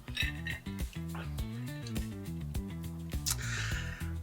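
Ice cubes clink and rattle against glass as a Black Russian cocktail is stirred, giving a quick run of bright, irregular taps up close.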